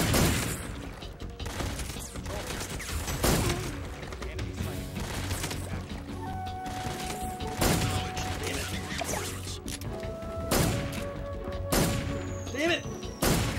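Pistol shots in Metal Gear Solid 3, several sharp reports spaced irregularly over a steady game background, each a sudden loud crack with some rattling echo, with talk in the background.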